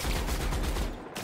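Rapid gunfire in the video game The Outer Worlds, a dense, loud burst of repeated shots lasting about a second before cutting off abruptly.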